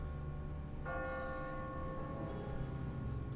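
A church bell in the Telltale game The Walking Dead strikes once and rings on with a long, steady tolling hum over a low ambient rumble.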